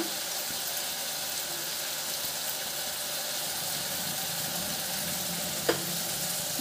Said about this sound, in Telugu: ఇప్పుడు మటన్ ఆయిల్లో మగ్గింది కదండి